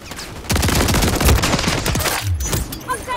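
Video game gunfire with slug rounds, rapid repeated shots in dense close bursts, loud and punchy, easing off near the end.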